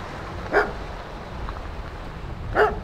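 A dog barks twice outdoors on a walk, two short sharp barks about two seconds apart, moderately distant over a faint background hiss.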